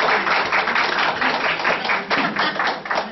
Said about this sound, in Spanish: Un aplauso para Gabriela, por favor.